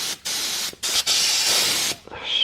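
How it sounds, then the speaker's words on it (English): Aerosol cleaner hisses in several loud bursts onto the rear brake pad pin of a Honda CBR600RR motorcycle, with short gaps between sprays and a final softer spurt. "spray and clean the rear pad pin"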